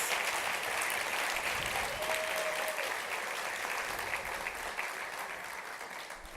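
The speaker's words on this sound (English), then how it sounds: "Let's give all of our award winners a nice big round of applause." Sustained applause from a gala crowd honoring award winners at a formal evening event, steady and dense throughout, gradually thinning slightly toward the end.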